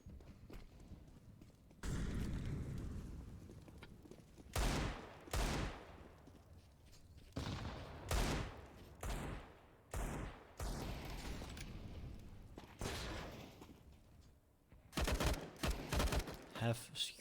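Pistol fire in a CS:GO match with Desert Eagles and P250s, scattered sharp shots in short clusters separated by pauses, fairly faint in the mix.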